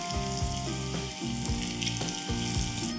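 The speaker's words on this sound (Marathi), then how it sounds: "आणि मस्त खरपूस होईपर्यंत दोनही बाजूने तळूयात." Masala kaap slices fry crisp in a pan, making a loud, continuous close sizzle with bubbling crackle and no talk.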